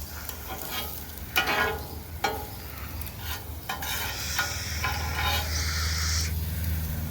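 Onions frying in a pan, with a steady close sizzle broken by several scraping stirs of a spoon or spatula, no talk.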